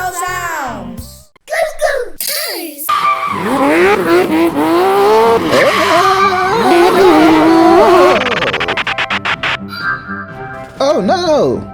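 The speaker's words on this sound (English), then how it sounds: "I was driving really fast. I lost control and I crashed" A cartoon car speeds and skids with squealing tires and a rising, wavering engine whine, ending in rapid clattering bursts, while a voice and other cartoon voices talk over parts of it.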